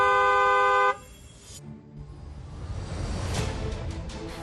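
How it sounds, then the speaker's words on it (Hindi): A car horn sounds in one long, loud, steady blast, then cuts off abruptly, leaving passing traffic and a vehicle whooshing by. "हॉर्न बजाना जरूरी है।"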